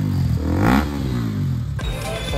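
A KTM RC 390 motorcycle with its dB killer removed rumbles close by, its exhaust revving briefly before settling into a throaty idle, heard with no voices.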